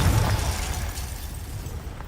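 A Confringo spell blast in Hogwarts Legacy lands as a loud, rumbling explosive burst that fades over about two seconds, with no talking.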